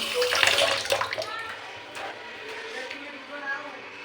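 Running water splashes as hands are washed under a tap, close and fairly loud at first, then trickling more softly with brief surges, while a voice speaks faintly in the background.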